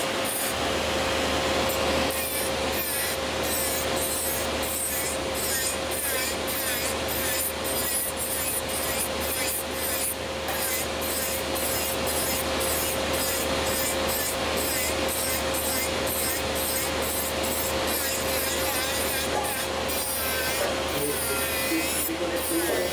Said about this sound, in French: Je peux limer librement pour une préparation d'ongles naturels